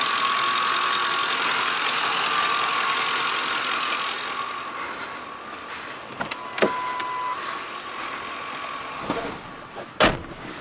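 A Ford Crown Victoria engine idles with a steady, even hiss and hum that softens after a few seconds, broken by a few sharp clicks and knocks near the end, with no talking.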